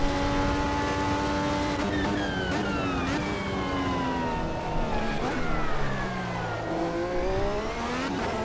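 An Indy car in the racing sim Automobilista 2 lapping a track, its engine holding a steady high whine with rising and falling revs through gear changes, loud and continuous with no talk.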